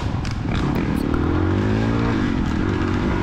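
Engine of a 2019 KTM 300XC-class two-stroke dirt bike opening up on a fire road during a cross-country race, a loud, steady rising drone with rising pitch and a little clatter from the course.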